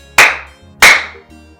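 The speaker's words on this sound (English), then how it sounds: "clap for yourself." Two sharp, loud hand claps close by, about half a second apart, each with a brief ringing decay.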